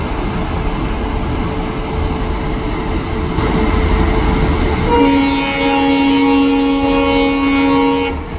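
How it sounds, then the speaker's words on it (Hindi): Capital Express train hauled by a Lalaguda-shed WAP7 electric locomotive, a steady loud rumble of running rail noise that gives way to a sustained multi-tone horn blast over the last few seconds. "तो कैपिटल एक्सप्रेस को लीड कर रहा है लालागुड़ा लोको सिरका WAP7"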